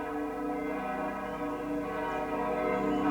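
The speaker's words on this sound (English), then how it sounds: "the bells of St. Mary's Redcliffe in Bristol rang out in celebration" Church bells of St Mary Redcliffe in Bristol ring out in celebration, a continuous wash of resonant overlapping peals and humming overtones, steady and moderately loud.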